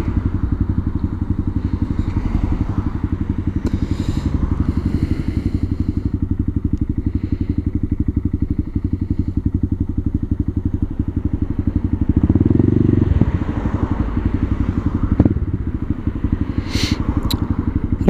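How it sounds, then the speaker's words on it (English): A motorcycle engine drones loud and close with a steady, continuous pulsing while the bike is ridden, with a brief surge in the middle and occasional clatter; a rider talks intermittently over it. "I'm actually stood up off the bike right now."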